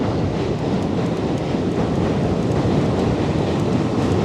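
A D subway train crosses a loud bridge on a Brooklyn ride to Coney Island, a dense, steady roar of rail rumble and wind noise that stays loud and unbroken throughout.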